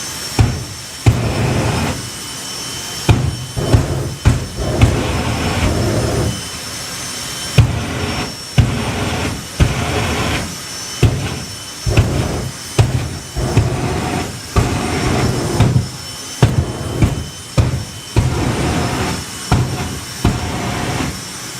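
A Ford Mustang and a Chevy Lumina drag car racing at a drag racing event, a loud, sustained roar with rhythmic pulsing bursts and a high whine running throughout.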